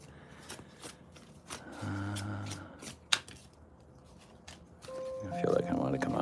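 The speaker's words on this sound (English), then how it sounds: "See a few more shuffles." Playing cards riffled and shuffled by hand, a few soft papery bursts with taps and light handling noise, fairly quiet and close, with no talk.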